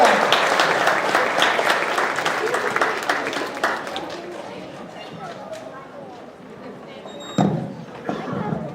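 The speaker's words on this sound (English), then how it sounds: "let's give a big round of applause for Hannah" An audience at a university chemistry demonstration show claps for a volunteer, with loud applause at first that thins into scattered claps and murmuring, then a brief sharp burst late on.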